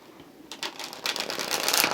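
Tarot cards being shuffled by hand at close range, a dense riffling patter that starts softly, then builds into quick bursts of crisp card slaps growing louder toward the end.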